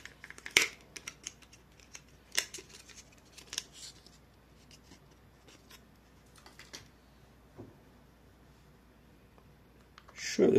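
A new laptop RAM module's packaging is opened for an Acer Nitro 5 upgrade, with sparse crisp snips, plastic clicks and rustles separated by quiet pauses and a louder crinkle at the end.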